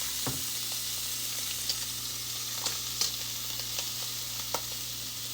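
Steady, loud sizzling of shrimp searing in a hot pan for shrimp mofongo, with a few sharp crackles and pops scattered throughout and no talking.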